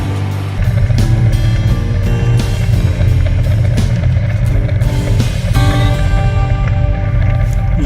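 A 1980 Honda Gold Wing motorcycle rides through a town, its engine a steady, close, continuous drone and rumble with a few gear changes and passing noises, and no voices.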